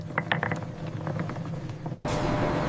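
A chocolate factory machine grinds cocoa nibs into cocoa mass with a rattling, ratcheting mechanical clatter, which abruptly gives way to a steady, louder whirring drone.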